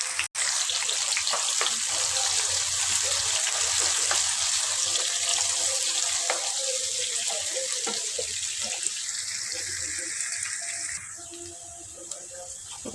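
Chopped onions sizzling in hot oil with cumin seeds for a dhaba-style paneer curry, a steady bright hiss lasting throughout with faint clinks, easing slightly toward the end.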